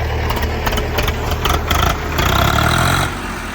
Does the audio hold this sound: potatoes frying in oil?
no